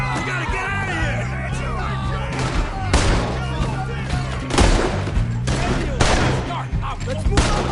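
Video game shootout on PS4, with dense, continuous gunfire and loud overlapping shots and bursts under shouting voices, chaotic and close throughout.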